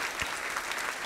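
Dense audience applause on a television game show, many hands clapping together in a continuous loud patter for about a second with no talk.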